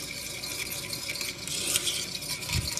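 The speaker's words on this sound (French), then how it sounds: "Et on continue à brasser." Caramel sauce with vegan butter stirred in a pan, a continuous soft scraping and gentle bubbling with faint clinks near the end, close and without talking.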